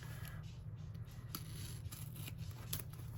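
Scissors snip through washi tape in a quiet journaling setting, a few faint, sharp clicks spaced over a soft background hum.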